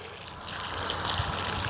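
A steady, close stream of fertilizer solution pours onto rose bushes, a continuous hissing splash that swells slightly as it goes.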